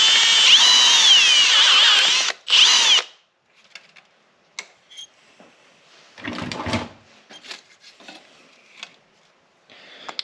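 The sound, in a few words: drilling through plastic with a step drill bit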